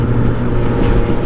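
Suzuki GSX-S 750 motorcycle with no exhaust fitted, its engine roaring loud and rough with a deep, steady growl for just over a second, heard close up with no voices.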